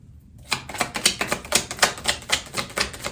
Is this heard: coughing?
no